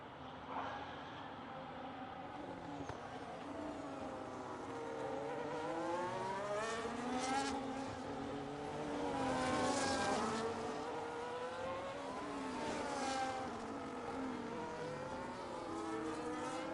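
Race cars in the F1 25 racing game at the Bahrain Grand Prix, several engine notes rising and falling through gear changes as the cars chase each other, moderately loud and continuous.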